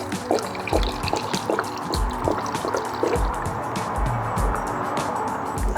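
Citrus cleaner concentrate pours from a 5-liter jug into a sprayer to be diluted with water, a steady liquid trickle and splash running throughout with faint clunks, close and moderately loud.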